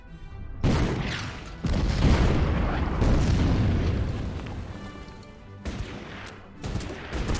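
Artillery fire in the wartime strategy game Order of Battle produces a few heavy, booming blasts with long rumbling decays, loud and close, one shell following another across several seconds.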